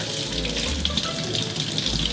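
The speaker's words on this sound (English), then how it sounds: "The water coming out is pretty clear" Water runs steadily and fairly loudly from a sink tap while a paint brush is rinsed, a continuous close splashing gush with no talking.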